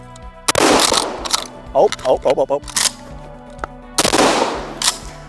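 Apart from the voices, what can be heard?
Stevens 320 pump-action shotgun firing buckshot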